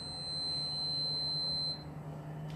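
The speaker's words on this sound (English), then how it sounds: "I don't even know what that beep was." A thin, high-pitched electronic beep holds steadily for nearly two seconds, then cuts off, leaving a quiet background hum.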